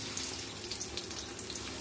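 Soft steady sizzling and crackling of onion and green chili frying in a pan for cabbage fry, fairly quiet and continuous.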